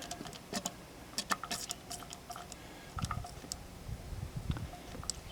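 A small hand siphon pump draws thick, dirty air compressor oil into a quart oil container, giving soft irregular wet clicks and squelches close by, quiet and without talk.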